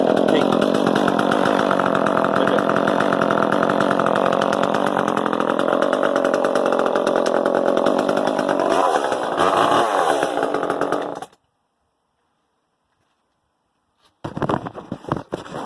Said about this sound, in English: Okay, I've got my newest chainsaw here.